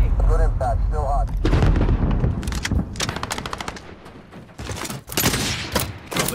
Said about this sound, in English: Throwing grenade! Good impact, still hot.